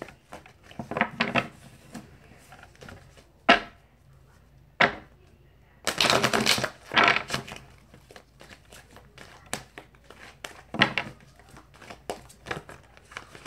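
Playing cards are shuffled by hand in repeated bursts of riffling and crisp flicking, close and fairly quiet, separated by short pauses with faint handling noise.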